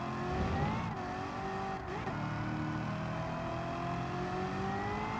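An American car's engine revs hard in Gran Turismo 7, a loud close drone whose pitch climbs, dips briefly between shifts, then rises again in a long pull, with no talk over it.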